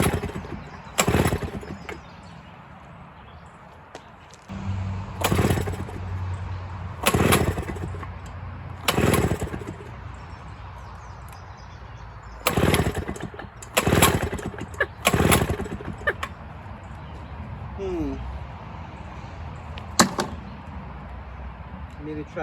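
An old Montgomery Ward power scythe brush cutter with a small two-stroke engine is pull-started repeatedly, giving a series of short separate bursts of cranking and sputtering that never catch, with quiet pauses between attempts.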